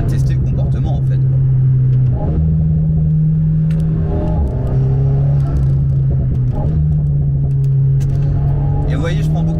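An Alpine A110 GT sports car drives along with a steady, loud engine drone and occasional shifts in pitch as it revs, while someone talks over it throughout.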